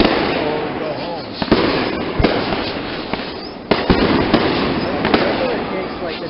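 Firework cake going off over a lake: a dense, continuous roar of crackling bursts with sharper booms every second or so, loud and steady throughout, with no speech.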